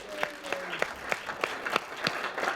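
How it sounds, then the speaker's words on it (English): Audience applause at a talk introducing a participant named as a food program coordinator, heard as a run of close, sharp claps from a small crowd at moderate volume with no talk over it. "Let's give Shaz a round of applause."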